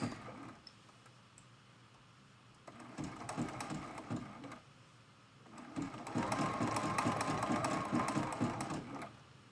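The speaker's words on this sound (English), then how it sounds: "And the zigzag stitch goes by pretty quick." A domestic sewing machine runs a zigzag stitch in two bursts, a rapid mechanical ticking and whirring that starts, pauses briefly, then resumes steadily and louder, close up with no talking.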